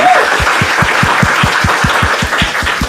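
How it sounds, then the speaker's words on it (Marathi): Audience at a Marathi stand-up comedy crowd-work show claps steadily for about three seconds, a dense wash of hand claps with a regular low thump pulsing beneath it. "एकदा टाळ्या वाजवा दोघांसाठी"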